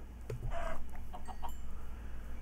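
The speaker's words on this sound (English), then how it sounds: "Hi, chicken." A Minecraft chicken clucks in a few short, soft bursts over a quiet in-game background.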